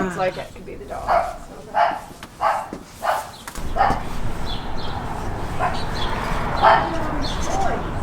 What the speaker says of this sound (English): that sounds like it could be the dog.